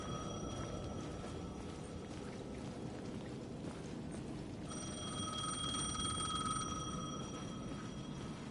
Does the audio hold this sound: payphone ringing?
yes